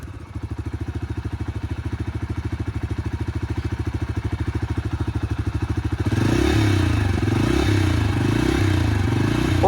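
A Bajaj Freedom 125 CNG motorcycle starting on petrol: a steady close idle with rapid regular putter, then about six seconds in the engine note thickens and rises into a louder, rougher running sound with surging pulses.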